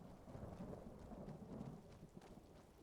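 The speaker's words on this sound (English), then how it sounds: "Ah, gotta love the rain." Steady rain with rumbling thunder in the fantasy video game Skyrim, a continuous stormy wash that swells and settles, heard alone without voices.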